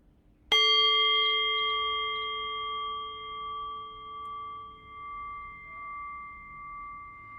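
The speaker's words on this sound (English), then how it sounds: "So in a few moments, I'll ring the bell." A meditation bell is struck once, giving a clear, bright strike that settles into a long, steady ring and slowly fades with a gentle wavering pulse in a quiet room.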